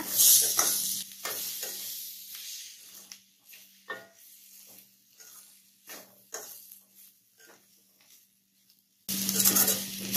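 Bitter gourd and tomato stirred in a pan for poriyal, a series of scraping, clattering spoon strokes with soft sizzling between them, close and clear, ending in a louder burst.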